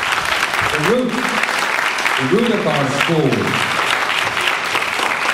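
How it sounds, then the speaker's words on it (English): An audience at a high school graduation ceremony applauds steadily and loudly throughout, a dense wash of clapping with someone speaking over it. "So why don't we give a little applause for"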